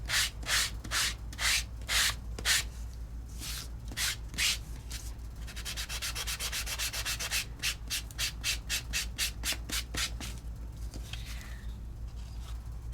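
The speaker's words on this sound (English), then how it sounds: "I can give just a nice light sand, and the detail of the embossing is going to start coming up." Light hand sanding of embossed color-core cardstock: repeated brisk rubbing strokes in a steady back-and-forth rhythm, close and fairly quiet, with a faster run of short scrapes midway.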